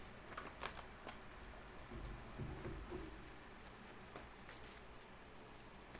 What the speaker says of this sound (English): Let's get a few shuffles.